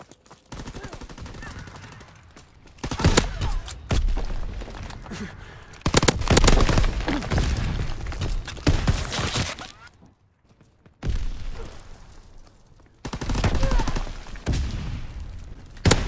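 Bursts of automatic rifle fire in a ranked Hardpoint match of Call of Duty: WW2, loud rattling volleys in several separate bursts with brief quiet gaps between them.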